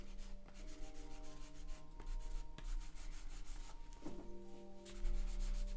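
A brush rubs icy blue paint into a canvas while painting a moody forest scene, a steady close scrubbing with rhythmic back-and-forth strokes, heard alone.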